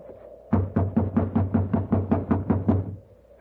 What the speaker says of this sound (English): You just have to keep knocking till he wakes up.